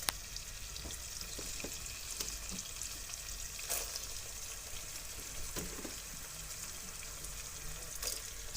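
Green chillies frying in a pan for a masoor dal masala, a steady broadband sizzle running throughout with a few brief scrapes and clicks of stirring, moderately close and without voices.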